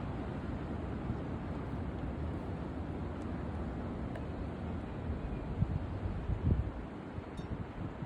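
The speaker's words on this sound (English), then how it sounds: "Comes a huge gust here." A strong, steady gust of wind rushes outdoors on a sunny day. The broadband roar is continuous and fairly faint, with a brief buffet against the microphone near the end.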